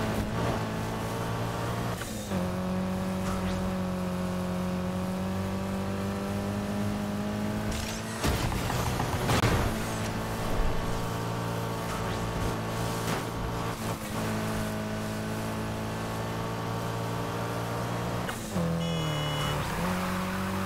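A car engine in Need for Speed Heat holds a steady, loud drone through a long drift, rising and shifting pitch as it revs, with a brief burst of tire and impact noise midway and no talk.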